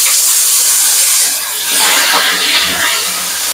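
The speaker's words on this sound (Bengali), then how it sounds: "আলু দিয়ে দিচ্ছি তেলের উপরে। আলুটা একটু ভেজে নেব হালকা করে।" Potato pieces frying lightly in hot oil with bay leaf for Katla macher jhol, a loud, continuous sizzling hiss that swells and eases slightly throughout.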